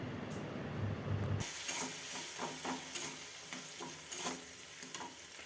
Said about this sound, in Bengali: এবার মশলাটা আমি ভালোভাবে কষিয়ে নেবো